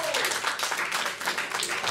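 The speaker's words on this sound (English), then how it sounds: "Come on, give him an applause, working hard." A crowd applauds steadily throughout, a dense wash of clapping with possible cheering mixed in.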